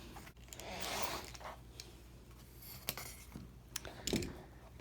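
Quilt fabric scraps are trimmed nearby, with quiet rustling and a few sharp snips and clicks that are faint and close.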